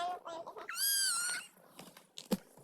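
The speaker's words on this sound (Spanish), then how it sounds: "Ahí está mi gato." Small kitten giving a single high, drawn-out meow close by, set among Spanish-language chatter and background noise.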